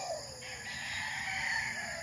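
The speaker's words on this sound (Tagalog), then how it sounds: "Ito mga spent hens na po yan" Spent hens cluck and a rooster crows on a farm, a drawn-out crowing call over steady background clucking, moderately near with no talk.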